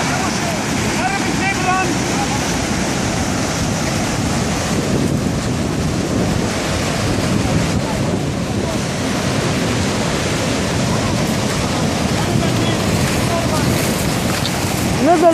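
Sea waves surge and roar steadily along a shore where a 750 cc ATV is dragged into deep water, with constant wind buffeting the microphone and faint voices now and then.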